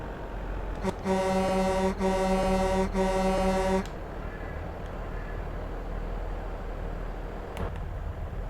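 A loud truck horn in Farming Simulator 22 blares a deep, steady multi-tone blast for nearly three seconds, briefly broken twice, sounding much like a train horn over a low engine rumble.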